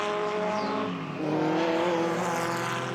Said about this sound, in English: late 50s, early 60s Grand Prix, Formula One Grand Prix cars